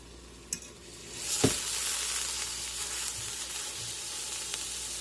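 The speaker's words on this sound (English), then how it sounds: "And we're just going to let that side sear." Beef pot roast searing in a hot pan gives a steady, moderate sizzle that swells after a brief clatter and then holds evenly, with a few small pops and no talking.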